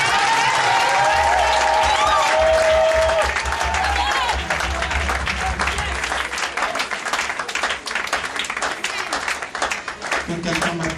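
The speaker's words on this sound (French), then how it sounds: "Pour acclamer très fort Jésus" A church congregation applauds and cheers loudly for Jesus, with dense, continuous clapping and crowd noise throughout, while a voice rises over it and music plays underneath.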